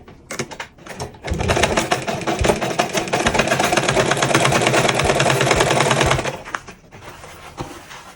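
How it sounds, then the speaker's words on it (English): A sewing machine stitches a padded turban in one sustained, loud mechanical run of rapid needle clatter lasting several seconds, with a few short handling knocks before it starts and after it stops. "So now I'll start sewing."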